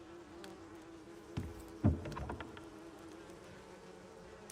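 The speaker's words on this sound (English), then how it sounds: "gonna be an expert bee killer by the end of this" Bees buzz in a steady low drone, joined by a few short knocks and thuds, while a voice briefly speaks over it.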